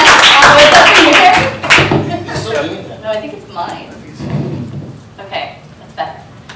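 Short burst of audience applause at a startup conference talk in San Francisco, loud and dense at first, then quickly fading as people begin talking.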